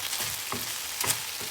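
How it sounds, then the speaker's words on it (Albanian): Chicken pieces fry in a pan with a continuous close hiss, punctuated by a few soft scraping turns of a spatula. "Pesë minuta do pula, ndërkohë përdridheni ndonjëherë që të marri skuqje nga të gjitha anët."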